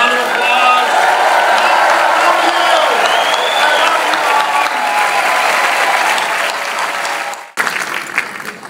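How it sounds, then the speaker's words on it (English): Loud, dense applause from a large New York audience at a city council speaker's inauguration, with whoops and cheering mixed in, sustained for several seconds before cutting off abruptly, then scattered claps as it trails away. "can everyone here give my mom a great, big New York hoot and holler and round of applause?"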